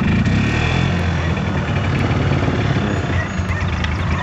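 A golf cart engine runs steadily outdoors on a property lot, a close, continuous low rumble with a constant vibrating drone and no clear changes in pace.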